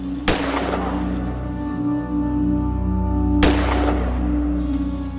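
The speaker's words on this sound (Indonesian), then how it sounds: "Terdengar suara dor-dor." Two sharp gunshots crack a few seconds apart, each ringing out with a long echoing tail over a low steady hum.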